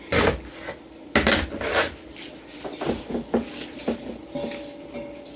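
A knife slices through red cabbage on a cutting board for a traditional German side dish, giving a series of crisp cuts and rubbing strokes close by.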